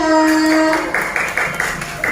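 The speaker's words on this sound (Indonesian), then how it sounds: "tepuk tangan untuk kelompok 2" Children in a classroom clap for a student group, a short burst of about eight or nine quick, fairly even claps that starts just after a sustained tone fades.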